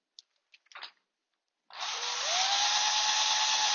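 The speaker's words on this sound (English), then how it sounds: "just take a normal drill and you basically stick it on here and throw it in reverse" A few faint clicks and rustles, then an electric drill running in reverse, attached to a Toyota FJ40 speedometer cable, whirs up and runs steadily, its pitch rising slightly before holding a constant high whine.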